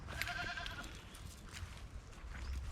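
A goat bleats briefly in a home garden with vegetable beds, a short wavering cry near the start followed by quieter outdoor background.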